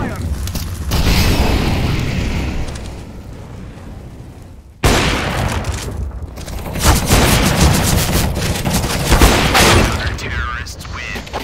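Grenade blast and bursts of gunfire in a Counter-Strike-style shooter, loud and dense, with a sharp cut midway and continuous firing afterward under voices talking.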